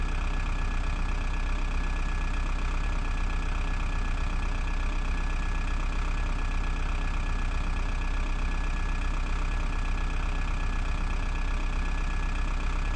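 Off-road vehicle engine in a video game, labouring in first gear up a steep climb: a steady, loud, unbroken mid-to-low drone with a knocking texture that holds level throughout, with no voices.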